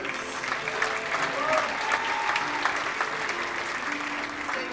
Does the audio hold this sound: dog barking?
no